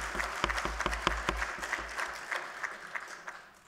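Applause from attendees at a public planning meeting, a moderate burst of clapping with several loud rhythmic claps up front over a low rumble, thinning and fading away toward the end.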